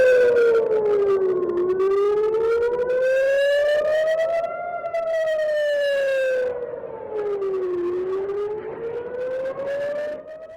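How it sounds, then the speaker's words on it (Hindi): An air raid siren wails loudly and continuously, its long tone sweeping slowly up and down in repeated rising and falling cycles. "आपको सुनाई दे रहा होगा जो सायरन बजता हुआ नजर आ रहा है।"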